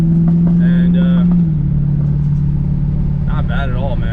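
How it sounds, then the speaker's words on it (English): Mopar car driving just ahead at a car meet in Jacksonville, North Carolina, its engine a steady low drone with a slight pitch drop, while people talk over it. "I'm actually following a Mopar right now"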